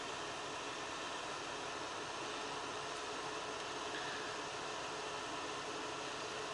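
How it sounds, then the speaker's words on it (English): The heater blower fan of a cheap Mini Cooper runs inside the car, a steady broadband airy rush with no change in pitch or level, close and constant, with no talking over it. "Well, the blower works"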